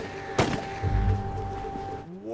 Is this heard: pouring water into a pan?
no